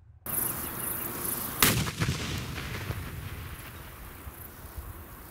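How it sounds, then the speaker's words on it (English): A single loud blast from a distance, a shaped-charge explosion made from a wine bottle hitting a steel plate: a sharp boom followed by a long rumbling, rolling echo that fades over several seconds under steady wind noise. "This explosion hit the main camera hard enough to cause a write error to the SD card."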